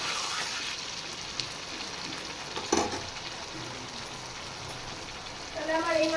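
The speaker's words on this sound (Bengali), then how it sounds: "এবার আমি জল দিয়ে দেবো।" Spiced vegetables sizzle in a pan as water goes in, giving a steady hiss with sputtering crackles and a brief clatter, and a voice is heard near the end.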